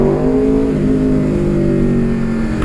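A 2019 Aprilia RSV4 1100 Factory superbike engine howls loudly and continuously at high revs, holding a strong, steady tone close by throughout.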